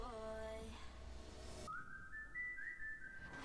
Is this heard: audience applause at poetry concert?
no